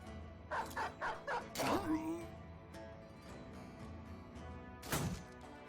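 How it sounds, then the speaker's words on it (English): Dogs in the Battle Brothers video game bark in a quick run of sharp yelps, followed by a crashing attack and a final loud bark, with speech in the background. "Time for sending the dogs."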